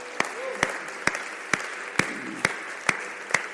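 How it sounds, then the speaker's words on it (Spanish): A church congregation applauding people in small groups, heard as a steady run of evenly spaced sharp claps about twice a second over a low murmur of room noise. "¿por qué no le damos un aplauso a todos aquellos que están en un grupo pequeño?"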